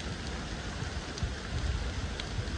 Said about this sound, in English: But the rain is steady coming down.